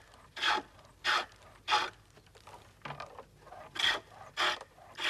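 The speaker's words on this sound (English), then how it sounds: "Using 2 or 3 different-sized gouges, the work is soon brought to a rough shape." Gouges cut green wood turning on a pole lathe sprung from a springy larch bough, giving rhythmic rasping strokes, about six bursts in five seconds with short pauses between, close and clear, with no talk.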